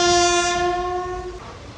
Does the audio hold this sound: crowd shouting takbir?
no